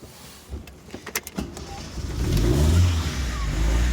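A car engine at a Petersen Automotive Museum cars-and-coffee event starts after a few clicks and thumps, then rises into a steady, loud rev that holds to the end, with no talk over it.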